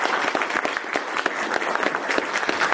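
Steady round of applause from an audience at a company meeting, dense and continuous clapping at moderate level with no talking over it.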